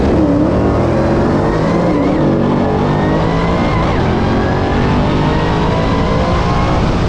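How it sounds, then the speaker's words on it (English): A naturally aspirated Trans Am racing in the finals of a no-prep drag race, its engine roaring loudly and steadily with rising and falling revs throughout, no voices over it. "So in the finals, we raced Matt with his NA Trans Am"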